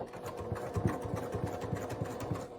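A sewing machine stitches a circle at super low speed, a steady run of close, evenly spaced needle thumps with a motor hum underneath, heard alone and close.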